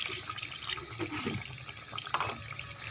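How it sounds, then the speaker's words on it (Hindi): Water is poured into a cooking pot of chicken and beetroot with spices, a soft brief splashing that sounds close but faint. "अब इसमें पानी डाल देंगे"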